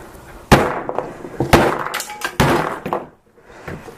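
A hammer strikes the display of an HTC One M8 phone in a series of loud, sharp impacts, four main hard cracks spaced about a second apart with smaller knocks and rattles between them. No one speaks over the blows.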